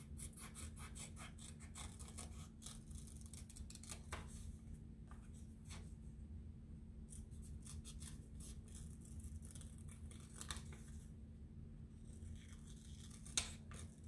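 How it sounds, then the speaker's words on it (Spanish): Scissors cut through paper during an umbrella craft, giving a steady run of crisp snips and rubbing strokes over a low, constant hum, close and fairly quiet. "Y agarras tus tijeras, you grab your scissors, y vas a cortarlos."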